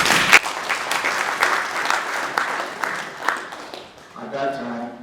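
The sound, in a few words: audience round of applause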